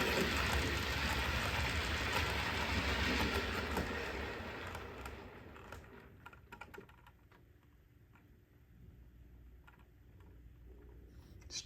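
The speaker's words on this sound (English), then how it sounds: "boat train. Let's see what it does." A model railway boat train running along the track, a loud rumbling clatter close by at first that fades into quieter ticking and clicks as it moves away.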